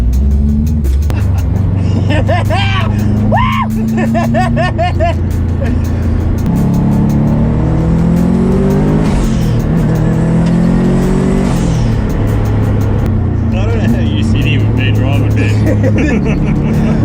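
A Subaru WRX GC8 on a race track at Luddenham Raceway accelerates loudly from inside the cabin, engine climbing and falling through revs in long sustained pulls, with people talking over the noise.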